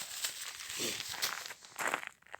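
Close, irregular crinkling and rustling of a plastic package of smoked capelin at a rubbish dump on a frosty day, soft crackles coming in short uneven bursts with no talking.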